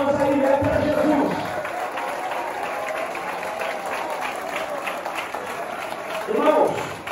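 A church congregation clapping for Jesus during worship, a sustained crowd applause that swells at the start and again near the end, with a voice speaking over it.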